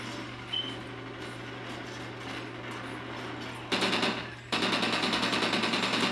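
Rapid automatic gunfire while shooting at an enemy in a video game, two loud bursts of fast rhythmic shots in the second half over a steady hum, no talk.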